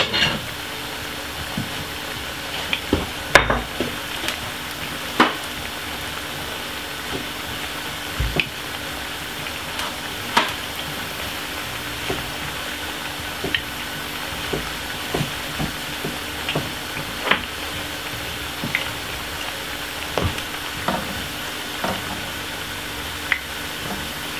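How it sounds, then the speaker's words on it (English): Plantain frying in oil: steady oil sizzle and hiss throughout, with scattered sharp pops and crackles, no talking. "take a little time and you keep frying them like this"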